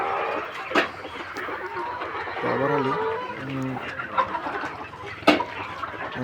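A flock of about 250 hens clucking in a low, busy chorus with a sharp squawk or two, while someone talks over the flock.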